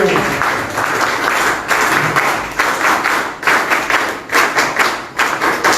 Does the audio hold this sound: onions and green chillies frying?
no